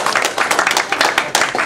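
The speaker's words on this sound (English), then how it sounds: "let's have a warm round of applause for our three speakers" Audience applause for three speakers at a public debate event, steady dense clapping from a seated crowd filling the room, fairly loud and even throughout with no voices on top.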